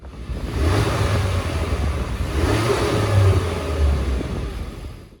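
A stock Honda Civic Type R engine revs up steadily, holding a loud, even drone for several seconds with slight rises and falls in pitch.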